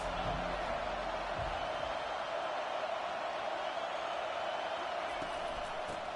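Steady roar of a stadium crowd in a college football video game, loud and constant for the whole stretch as a dense wash of noise with a few faint thuds. A commentator talks over it.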